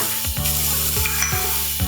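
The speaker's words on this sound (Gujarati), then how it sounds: "બધા વેજીટેબલ્સને હવે આપણે સોટે કરી દઈશું." Vegetables sauté with chili flakes, oregano and spices in a pan, a close, steady sizzle broken by a few scraping stirs.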